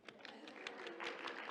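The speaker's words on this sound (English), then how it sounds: "Round of applause for you for making it here at 8 o'clock in the morning." Morning audience at an educators' talk event clapping in a steady, dense patter of many hands, moderately loud throughout with no voices over it.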